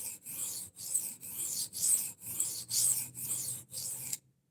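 A flipper knife blade is sharpened with about eight rhythmic rasping strokes, close and fairly quiet, then the strokes stop.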